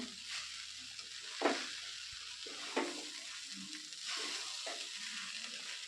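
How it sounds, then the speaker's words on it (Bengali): Poha being stirred with sugar in a pan for a breakfast pulao, a low steady sizzle under a few distinct scraping strokes of the spoon against the pan, close and moderately loud with no talking. "চিনি দিয়ে আবারও আমি হালকা হাতে এগুলোকে মিশিয়ে নেব"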